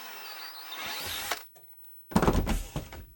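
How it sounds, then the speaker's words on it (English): A power drill bores a hole in a holster mounting plate in two close, loud bursts. The first is a steady whine, then a brief pause, then a rougher grinding spell. "I'll go ahead and drill that as well."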